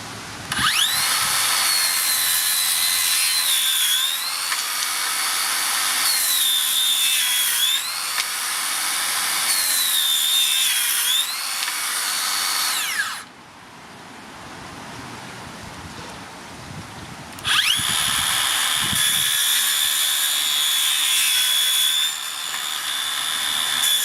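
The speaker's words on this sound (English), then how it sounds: "I'll try cutting some framing size timber with the slow speed just to see what difference it makes" A Makita 40V circular saw on slow speed whines loudly through framing timber in repeated cuts, the motor pitch dipping under load, pausing for a few seconds of near quiet, then spinning up again for another cut.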